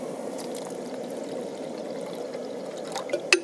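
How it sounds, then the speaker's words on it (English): Water poured into a cup of instant noodles, a steady close trickle running alone and evenly, ending with a small plastic knock at the finish. "Add more water."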